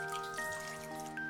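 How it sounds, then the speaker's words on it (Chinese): Clean water runs into a cooking pot holding washed pork ribs for sweet and sour ribs, a soft steady trickle and splash under a faint constant hum, close by and with no talking. "洗干净的排骨倒锅里，加清水没过排骨"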